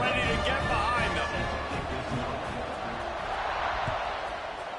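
Crowd noise swells steadily in the stadium at kickoff during a Michigan State at Iowa State game in NCAA 26, under continuous commentary from a broadcast announcer.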